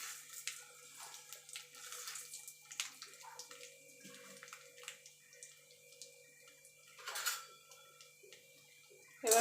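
Black mustard seeds and dried chillies splutter in hot oil as a tempering for a sour dal with hog plums, with faint scattered pops and crackles and one louder sizzling burst near the end.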